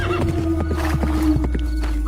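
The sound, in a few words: horse neighing and hooves clip-clopping, story sound effect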